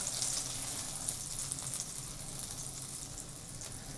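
Quiet, steady crackling and hissing of butter sizzling in a hot pan for pan-made kabab koobideh, a soft continuous fry with faint pops, no voices.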